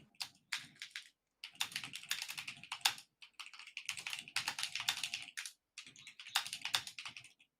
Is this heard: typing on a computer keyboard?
yes